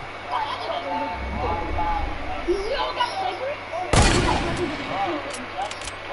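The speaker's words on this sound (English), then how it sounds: "they're shooting at me" Gunfire in a multiplayer shooter video game, a burst of shots landing near the middle, over steady game ambience with a player talking throughout.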